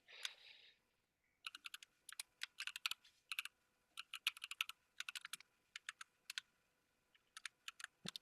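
Keys clatter on a computer keyboard in quick irregular bursts of clicks, close and clear, with short pauses between runs and no voices.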